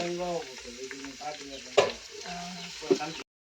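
Onions and tomatoes fry and get stirred in a pan for home-style dum biryani, a steady close sizzle with scraping stirs and two sharper clatters near the middle and end, stopping abruptly before the close.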